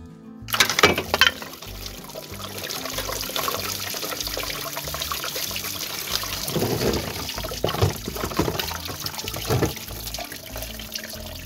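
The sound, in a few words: coolant draining from a 1.6 HDi engine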